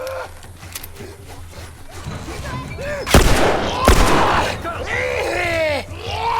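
Gunshots in the video game The Last of Us, two loud sharp blasts close together amid game ambience, with someone talking over the action.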